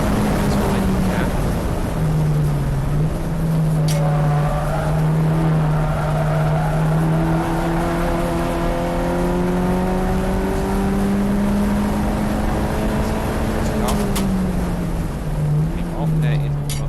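Touring race cars in a Silverstone club race drone past at steady high revs, a sustained engine note that rises and falls slightly as the cars pass, under continuous commentary.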